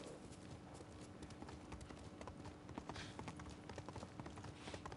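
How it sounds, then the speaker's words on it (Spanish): Horse hooves clip-clop steadily at a walking rhythm in the video game Ghost of Tsushima, a continuous close patter of soft hoof strikes without talk. "Sí, es mi caballo."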